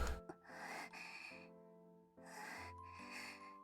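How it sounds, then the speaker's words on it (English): A female character in the video game Trouble Days pants in sharp gasping breaths and snorts, close and fairly loud, in bursts over a steady game music bed with no talk. "She's panting."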